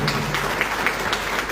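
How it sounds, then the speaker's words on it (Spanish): Applause at a Guarani language and culture tribute ceremony, a short steady patter of clapping from a room of people, fairly even and sustained with no voices over it. "Otro aplauso fuerte para el escribano."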